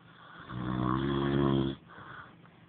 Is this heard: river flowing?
no